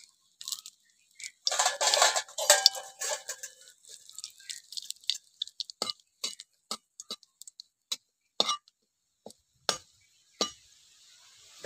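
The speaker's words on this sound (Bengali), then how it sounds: "এবার তেলের ভেতরে আমি ফোড়নে দিয়ে দেবো দুটো শুকনো লঙ্কা, আর দিয়ে দেবো একটা গোটা তেজপাতা" Two dried red chillies and a whole bay leaf fry in hot oil, giving sparse, sharp crackles and pops: a busy cluster at first, then scattered single ticks, with no talk.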